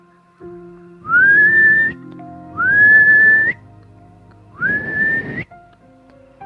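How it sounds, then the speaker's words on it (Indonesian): A person whistles three separate notes, each sliding up and then holding, with short pauses between them. The whistling is clear and close. "Karena merasa berhutang budi pada Ria Sinir, ia kemudian bersiul."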